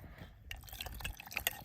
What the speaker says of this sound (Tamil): இப்போ நம்ம இதில் தண்ணி சேர்த்துக்கலாம்.